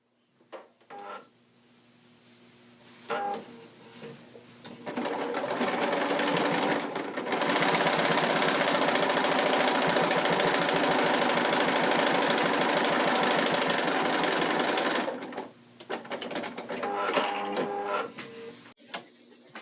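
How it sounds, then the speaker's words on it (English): A sewing machine stitches a quarter-inch seam along a pieced quilt binding strip, a few short starting bursts, then a loud, continuous rapid whirring run of about eight seconds before stopping and resuming in brief spurts. "I'm going to sew a 1/4 inch seam"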